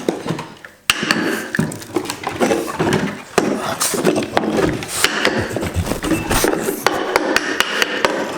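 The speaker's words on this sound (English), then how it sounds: "Let's take some carpet strips up." Hammer blows strike wood while carpet gripper strips are being pulled up during a house renovation, a loud, irregular series of sharp whacks and cracks with scraping in between.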